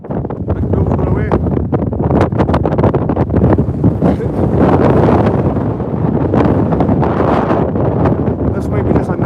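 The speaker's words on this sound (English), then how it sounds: "Jesus, the wind!" Strong wind buffets a microphone on a hillside with ancient agricultural terraces, a loud, continuous, gusty roar that fills the whole stretch and rises and falls in pulses.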